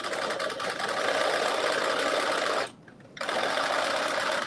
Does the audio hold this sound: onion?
no